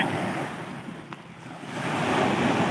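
Strong sea waves wash onto a beach in a steady, broad roar of surf mixed with wind buffeting the microphone, swelling louder toward the end, with no talking.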